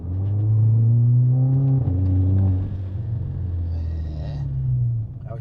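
A Volkswagen Jetta tuned to Stage 2 is pushed hard, its engine a loud, steady low rumble that climbs, dips briefly and then holds strong before easing off near the end, with no talk over it.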